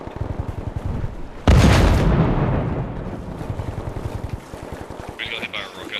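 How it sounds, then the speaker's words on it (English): A rocket slams into the squad in the Bellum tactical game, one sudden loud blast that rolls off into a long fading rumble, with a steady engine-like throb before and after and a voice speaking briefly. "We got hit by a rocket."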